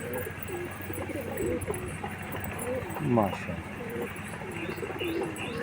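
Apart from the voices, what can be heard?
pure Indian pigeons cooing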